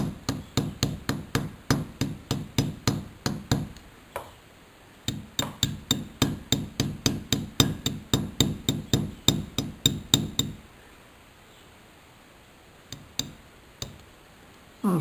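A small hammer strikes metal again and again to texture a piece, sharp ringing taps in a fast even rhythm close up, a short pause midway, then a long burst before scattered taps trail off.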